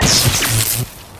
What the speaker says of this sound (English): This is the sound of a flat-screen television hurled off a building.